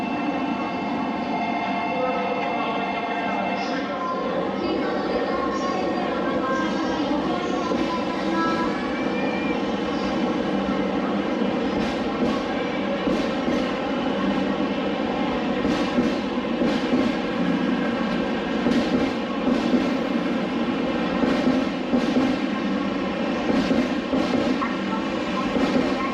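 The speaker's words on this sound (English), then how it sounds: "one of the other Shinkansens going to the north of the main island of Japan" A Shinkansen high-speed train in Japan rushes past with a steady, loud roar and rumble that holds for the whole stretch, with rattling and hissing layered on top.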